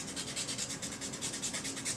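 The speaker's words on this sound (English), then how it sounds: "I have a paper stump here that I'm just sanding a little bit" A paper drawing stump being sanded: a close, faint, rapid rhythmic rasping of strokes back and forth, even and continuous for two seconds with no talk.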